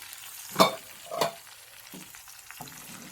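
A spoon scrapes twice through chicken gravy in a pan, followed by softer stirring sounds over a faint sizzle.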